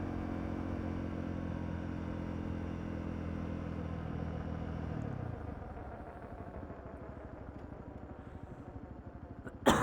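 A Honda CRF300L motorcycle runs with a steady engine drone that drops off after about five seconds into lower, rougher rumbling and road noise, then a brief loud burst at the very end.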